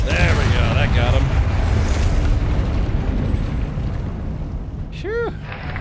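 A Confringo fire spell bursts in Hogwarts Legacy, a loud, rumbling blast with a broad roaring wash that lingers for several seconds, with brief talk at the start and a short whooshing sweep near the end.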